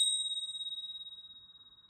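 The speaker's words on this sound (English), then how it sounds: "One of my favourite tools for space clearing, tingsha." A single bright strike of tingsha bells, used for space clearing, rings out alone in a quiet room, its pure high tone wavering and slowly fading away.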